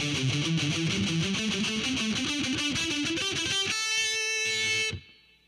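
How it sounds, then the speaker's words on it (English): Distorted electric guitar plays a heavy metal lick from the A pentatonic minor scale, a fast run of picked notes moving up and down, loud and close, ending on a sustained note that cuts off abruptly. "This lick is out of the A pentatonic minor scale."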